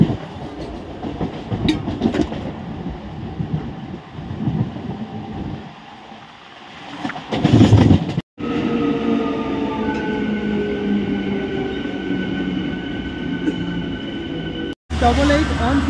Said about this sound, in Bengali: এবার ছাড়বে ট্রেন